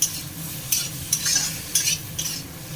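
A spoon stirs salt, turmeric and red chili powder into a sizzling fish curry with eggplant and potato in a pan, giving several distinct scraping strokes over a steady frying hiss.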